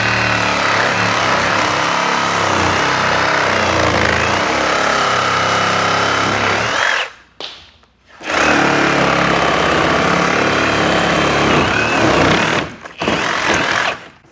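Power tool cutting through old staircase timber during a staircase removal, a loud continuous grinding buzz that drops out briefly twice before resuming.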